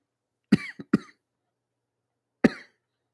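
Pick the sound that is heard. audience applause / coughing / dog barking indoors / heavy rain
coughing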